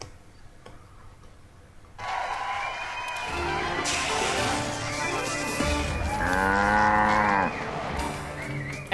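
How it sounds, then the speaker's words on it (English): Bessie Bovine, a cartoon cow in the Sam & Max Save the World video game, lets out long, loud, drawn-out moos over a backdrop of game music and faint ticking, rising and wavering before trailing off. "It's the cow. Bessie Bovine, our co-star on Midtown Cowboys."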